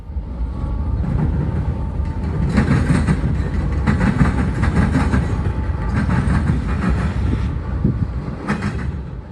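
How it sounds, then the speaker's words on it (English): A Norfolk Southern freight train of empty auto rack cars behind GE locomotives rolls past close by, a loud continuous rumble with rattling and rhythmic clickety-clack of wheels over rail joints. "this train would be all empty auto racks heading back north behind two more NSGEs"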